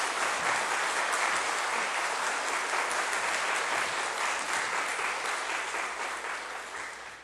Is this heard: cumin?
no